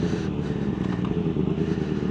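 A motorbike cruises along a rural Scottish road near Moffat and St Mary's Loch, its engine droning loud and steady with wind rush, ridden solo.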